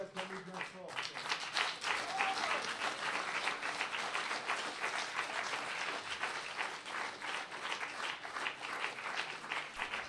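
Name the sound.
congregation applauding the Lord in church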